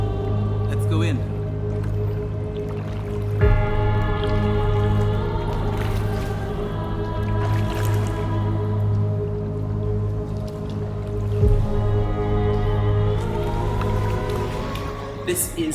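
The River Bride flows through a culvert beneath a bridge in Cork, a steady, echoing rush of water with dripping and splashing throughout, and a low enclosed rumble underneath.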